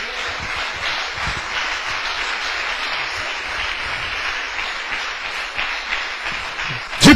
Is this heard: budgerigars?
no